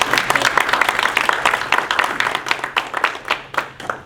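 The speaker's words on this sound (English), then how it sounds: "Give a round of applause to our panel speakers" An audience at a luncheon claps steadily for panel speakers for several seconds, a dense patter of many hands at moderate loudness with no voices on top.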